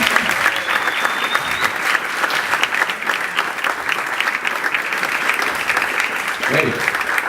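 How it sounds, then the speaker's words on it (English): Warm, loud applause from a live audience at a Startup Grind Cape Town event, steady dense clapping filling the room throughout with a few indistinct voices mixed in. "applause."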